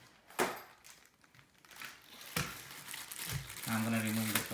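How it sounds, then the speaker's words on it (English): A tripod's plastic bag crinkles and rustles in bursts up close as it is handled during unboxing, with a brief low hum near the end. "I'm gonna remove the plastic bag"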